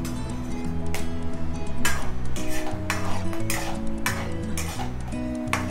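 Cloves, bay leaf and cashews fry in butter and oil while a spoon stirs them, giving steady close clinks and scrapes against the pan over a soft sizzle.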